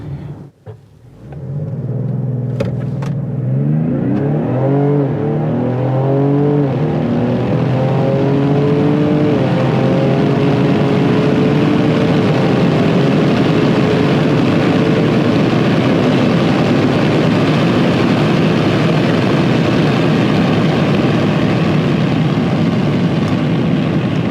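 A 2025 Ford Explorer ST starts up and settles into a steady, loud, close engine idle while warming up, with a brief rising rev near the start and then an even rumble throughout.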